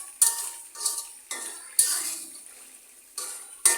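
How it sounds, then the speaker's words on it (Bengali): A spoon stirs beef and raw jackfruit in a cooking pot, giving six separate scraping strokes close by, each fading quickly, with a faint simmer between them. "ভালো মতো একটু নাড়াচাড়া করে"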